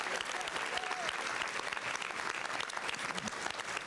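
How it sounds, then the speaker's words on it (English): Sustained audience applause fills the room, a dense even patter of many clapping hands at moderate distance with no voices on top. "Let's give Ms. Jackson another round of applause."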